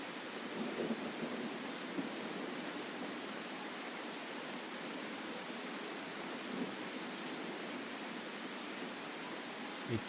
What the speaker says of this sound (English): Man, this is a rainy server over here.